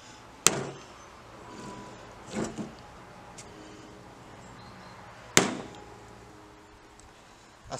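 A hammer strikes a screwdriver while working on the rear short axle of a BMW E30, three sharp metallic knocks spaced a few seconds apart with a softer tap between, close and clear in a quiet room.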